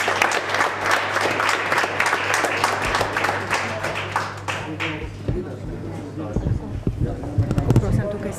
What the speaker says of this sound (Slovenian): In temu mislim, da je vredno tudi zaploskati.